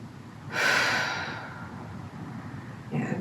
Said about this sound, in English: we're going to just take 2 nice deep breaths